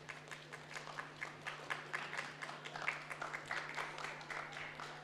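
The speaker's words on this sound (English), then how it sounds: "Round of applause for Calvin." A chapel audience applauds at a school chapel service, a moderately quiet round of clapping with individual claps audible, steady across the few seconds over a faint constant hum.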